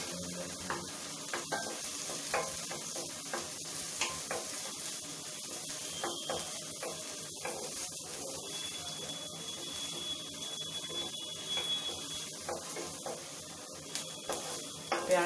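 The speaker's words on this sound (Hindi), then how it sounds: "प्याज लहसुन अदरक को भूनेंगे अच्छी तरह," Onion, garlic, ginger and green chillies fry in a pan for Punjabi-style sarson da saag, giving a steady close sizzle with occasional stirring and scraping, and no talk.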